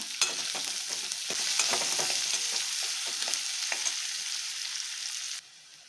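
Chopped onions and green chillies fry in a pan with a steady, close sizzle, broken by soft scraping and stirring clicks, before the hiss suddenly drops away near the end.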